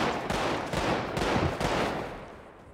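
Rapid bursts of gunfire in GTA 5 roleplay, several sharp shots in quick succession at fairly low level, fading out toward the end with no talk over them.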